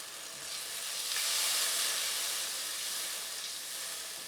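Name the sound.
butter melting and sizzling in a pot of stock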